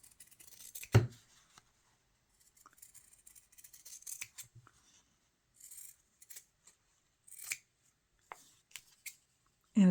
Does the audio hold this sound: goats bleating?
no